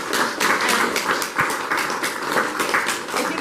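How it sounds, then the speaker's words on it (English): An audience applauding an artist at a museum event, a steady dense wash of clapping throughout, fairly loud and close, with no talk over it. "A round of applause to Jeremy and his beautiful artwork."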